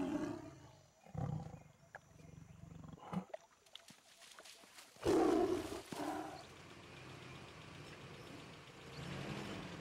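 Bengal tiger roaring in an Indian national park: several deep growls and grunts, then a loud, sustained roar in the middle, fading into a low rumbling background.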